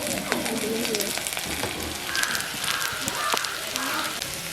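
Sliced onions fry in a pan over a low flame with a steady, close sizzle and occasional stirring clicks, while faint bird calls sound in the background.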